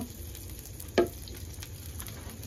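Garlic and curry leaves fry in hot oil in a pan over a wood-fired stove, a soft continuous sizzle with one sharp clack of a utensil partway through, no voices.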